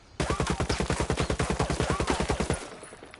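An R5 RGP assault rifle in Ghost Recon fires a single sustained automatic burst of about twenty rapid, evenly spaced loud shots over roughly two and a half seconds, then stops abruptly.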